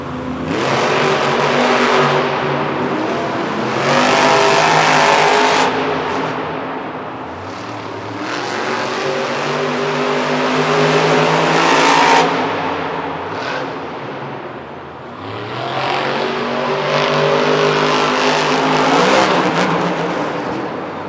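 Monster trucks racing at a Monster Jam stadium event in Syracuse, NY, roar loudly and continuously, their engines surging and revving in waves across the whole stretch, with no voice over them.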